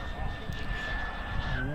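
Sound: model jet turbine engine surging

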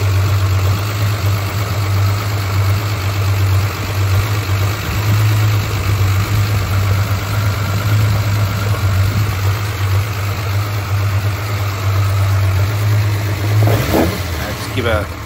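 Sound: Hemi 245 engine idling on the dyno

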